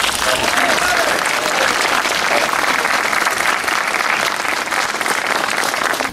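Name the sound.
applause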